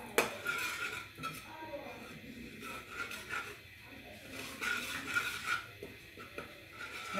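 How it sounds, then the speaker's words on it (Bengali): Spices frying in hot oil in a cooking pan for palak paneer, with a steady sizzling hiss under repeated scraping and stirring of a utensil against the pan. "তেলের মধ্যে মশলাগুলো দিলে কি হবে, সুন্দর একটা কালার আসবে। একটু ভেজে নেব তেলটার সাথে।"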